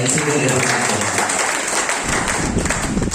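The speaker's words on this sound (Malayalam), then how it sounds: "നല്ലൊരു കൈയടി നമ്മുടെ" Audience applause at a recognition event in Nilambur, a dense roll of clapping that builds and stays loud across the span, with a voice speaking over it early on.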